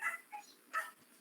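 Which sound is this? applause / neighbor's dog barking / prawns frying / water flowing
neighbor's dog barking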